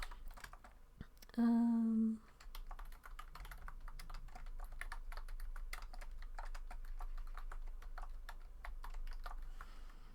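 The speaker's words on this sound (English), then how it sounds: "So I'm just typing a new title on the Twitch stream." Someone types on a computer keyboard, a busy run of close, quick key clicks that continues steadily after a short electronic tone.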